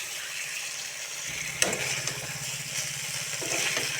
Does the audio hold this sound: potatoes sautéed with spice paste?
yes